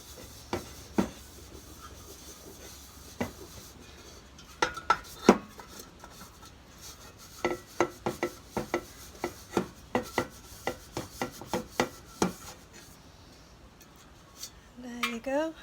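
Paint is rubbed into a small craft cauldron with quick, close scratchy strokes that come in irregular bursts and then a dense run of rhythmic rubs, against quiet background.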